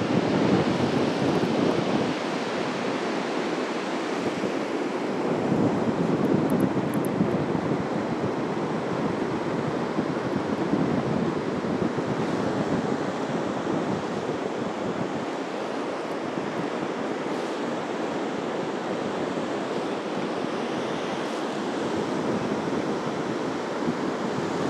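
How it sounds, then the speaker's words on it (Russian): Storm waves on the sea at Anapa's central beach in December after strong wind and rain, a loud, continuous roar of crashing surf with heavy wind buffeting the microphone and no voices. "И сегодня на море вот такой шторм"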